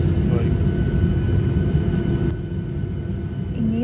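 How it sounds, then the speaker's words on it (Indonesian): A jet airliner sits near a harbour-side airport runway on Hamilton Island, with a loud, steady, close engine roar filling the clip that eases slightly partway through, and people talking faintly beneath. "kita menikmati pesawat yang take off, yang landing di sini guys"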